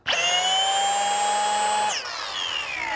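A car polisher set to 1,200 RPM for an initial cut whirs loud and close with a steady high motor whine for about two seconds, then spins down with the pitch falling.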